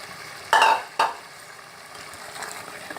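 Boneless mutton tipped into a hot karahi of softened tomatoes: two sharp, loud sizzling bursts in quick succession, then a quieter low hiss of frying.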